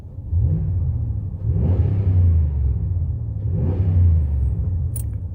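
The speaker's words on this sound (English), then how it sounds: "let me get a few revs in" A 2017 Dodge Ram 1500 5.7 V8 pickup revs up twice in deep, throaty bursts, each rise and fall close by, with a low idle rumble between them.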